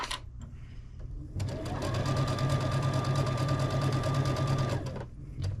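A sewing machine stitches a quilt seam while a block of an oversized baby lap quilt is pieced together. It runs in one steady, close burst of rapid mechanical whirring for about three seconds, with quieter handling noise before and after.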